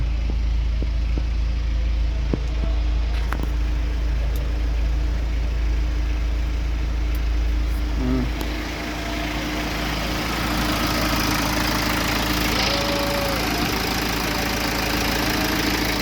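A BMW car engine runs after a timing repair, settling into a steady, close idle with a low rumbling hum throughout and a brief shift in tone partway through; no voices.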